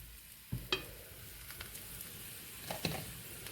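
Flatbread roasting in ghee on a pan, a soft, steady sizzle with a couple of light taps and scrapes from turning it, quiet and close, without talk.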